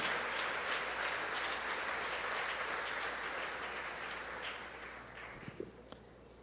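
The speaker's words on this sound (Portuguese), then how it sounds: "Pode aplaudir ao Senhor, vida santa diante do Senhor." A church congregation applauds together in a steady, dense wash of clapping that slowly thins and fades toward the end, with a few sharper claps near the close.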